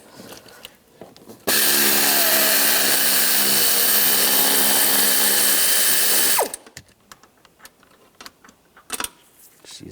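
A nut on a 2000-2006 Chevrolet Tahoe seat being spun off with an E20 socket, making one loud, continuous mechanical whir for about five seconds, followed by quieter scattered clicks and handling taps.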